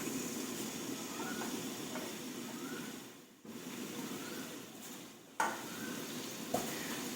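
Ginger frying in hot oil in a pan, a steady broadband sizzle with scraping stirs and a few sharper knocks of the utensil against the pan, with no voices.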